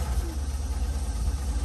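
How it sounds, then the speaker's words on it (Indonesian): A Mitsubishi L300 pickup truck engine idles after starting, a steady low rumbling throb heard close up, with a faint voice in the background. "di start langsung hidup, gampang"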